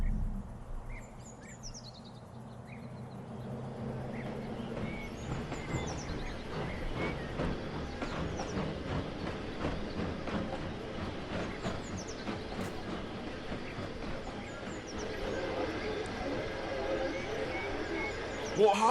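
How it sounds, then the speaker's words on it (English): A passenger train runs along a railway with a steady rumble and rhythmic clickety-clack of wheels over rail joints, continuous and fairly close throughout, with a voice speaking over parts of it. "With a passenger train, too."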